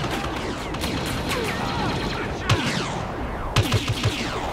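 Rapid bursts of blaster and gun fire crackle through a Star Wars Battlefront firefight, a dense steady barrage with a few sharper, louder shots near the end and no talking.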